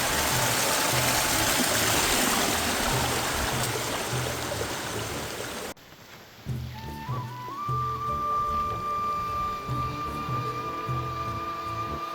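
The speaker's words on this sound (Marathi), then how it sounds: "इकडे दुसरा बघा मिनी वॉटरफॉल" A small stream tumbles over a mini waterfall in a village, giving a steady close rushing of water that drops away midway and returns fainter under a droning engine-like tone.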